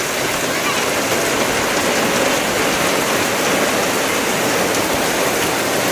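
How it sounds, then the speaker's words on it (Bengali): Heavy rain pours in a steady dense roar during an afternoon storm, loud and unbroken throughout with no pauses. "আর বলতে বলতে কিন্তু প্রচুর জোরে বৃষ্টি শুরু হয়ে গেছে।"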